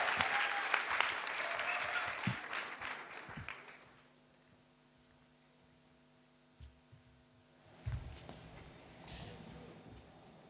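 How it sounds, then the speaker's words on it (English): Audience applause at the opening of an internet freedom forum in Namibia, with dense clapping for about four seconds that then stops, followed by a quiet room, a hum, and a few scattered noises. "So clap for the man."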